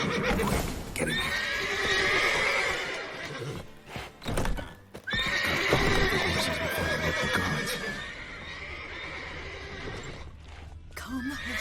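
Horses in The Witcher 3 neigh and whinny loudly and repeatedly, with hooves clopping and stamping underneath, close by and agitated, pausing briefly midway before the cries resume.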